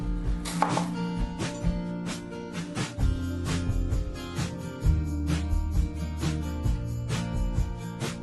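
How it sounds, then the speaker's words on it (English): Garlic gets finely chopped on a cutting board, a run of quick, uneven knife taps against the board, fairly close, with no talking. "You just want to get your garlic pretty finely chopped."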